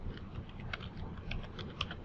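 Quiet keystrokes on a computer keyboard as a word is typed and Enter is pressed, a short run of soft, close clicks over a low background hum.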